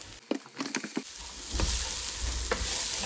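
A masala for salted prawn puttu biryani, with pepper added, is stirred in a pan: a few sharp scraping clicks of the spoon, then a steady close sizzle and stirring rustle, with no talking.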